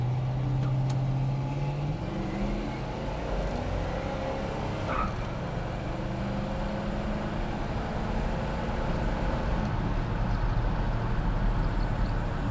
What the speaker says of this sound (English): Let's give it a little gas here once again.